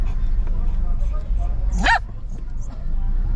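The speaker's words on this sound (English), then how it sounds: "Sorry for that, our dog is too excited." An excited pet dog yips, barks and whimpers close by, with a sharp rising whine near the middle, while people talk over a steady outdoor background.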